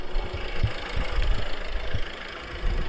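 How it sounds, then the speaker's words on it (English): A Citroen work van's engine runs at idle with a steady rough low rumble and faint knocking pulses, close and fairly loud. "Let's turn the engine on."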